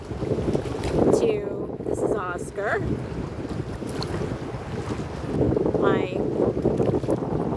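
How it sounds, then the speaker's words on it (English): Strong wind gusts across a microphone on a bay, a steady rumbling roar with waves faintly beneath, as someone speaks briefly in the middle of it. "It's a windy day on the bay"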